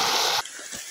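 Water gushes into a full reservoir as a loud, broad rushing burst for under half a second, then drops abruptly to a quiet background.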